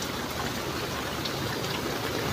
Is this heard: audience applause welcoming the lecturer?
no